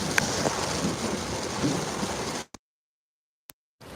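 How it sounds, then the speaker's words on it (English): Heavy rain pours down, heard from inside a car as a dense, steady hiss for a couple of seconds before it cuts off abruptly into near silence, with a faint tick and a brief return at the end. "Really pouring."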